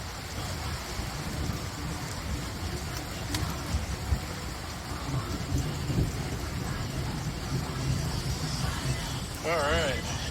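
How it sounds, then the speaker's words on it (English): Steady rain falls during a severe thunderstorm in Breedsville, Michigan, a dense continuous hiss close to the microphone with low rumbling underneath and a brief chirping sound near the end. "It's raining now."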